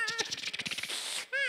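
A person imitates a cat with their voice, giving a string of quick, close, loud meow-like syllables and then a longer drawn-out meow.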